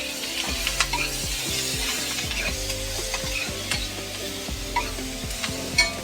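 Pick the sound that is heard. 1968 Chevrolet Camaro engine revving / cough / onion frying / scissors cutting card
onion frying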